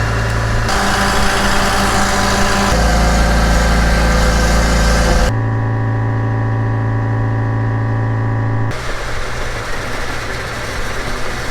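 Small engine on a plot sprayer rig running close and loud, shifting in pitch and load in distinct steps as it throttles up and settles, with a steady mechanical drone and no talk.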